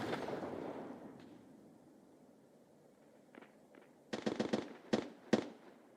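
Grenade explosions in Escape from Tarkov, woods map: after a quiet stretch, a quick cluster of sharp, fairly faint blasts and cracks comes in rapid succession.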